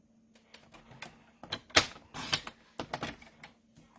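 A paper trimmer's cutting blade slides across card stock with quiet, close scraping and clicking, a few distinct taps and rasps spread over several seconds in a still room.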